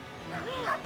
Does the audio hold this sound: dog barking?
yes